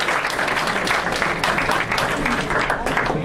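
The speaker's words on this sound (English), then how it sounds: "Let's give a big hand to the folks who dished out the food for us tonight." Dinner guests at a community dinner in West Warwick, Rhode Island clap for the people who served the food, a moderate burst of applause with some murmured voices mixed in.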